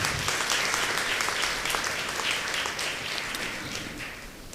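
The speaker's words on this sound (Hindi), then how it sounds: "तो हमारे दिल्ली पुलिस लोगों के लिए भी एक बार जोरदार ताली बजाइएगा।" An audience claps loudly for Delhi police officers at a public gathering, a thick burst of applause that continues for several seconds and tapers gradually.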